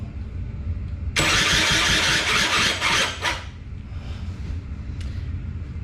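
Honda Spree scooter engine starting at full throttle: a loud burst of revving roar that holds for about two seconds, then cuts off, leaving a low idle rumble and background noise.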